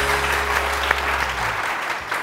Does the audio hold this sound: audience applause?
yes